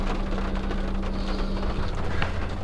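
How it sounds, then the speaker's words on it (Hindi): Steady rain falls around a car during a pause between drives, a dense continuous hiss with a low rumble beneath it and no voices. "बारिश वापस स्टार्ट हो चुकी है"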